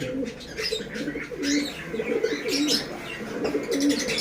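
Pigeons coo softly and repeatedly at close range at a pigeon seller's in Khulna, low rolling calls with a few light chirps and flutters in between.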